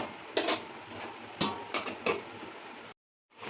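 Kacchi biryani meat with spice mix is stirred in a pot with a utensil, giving a few sharp metallic scrapes and clanks close up, then a short silence before more clatter as the pot is covered.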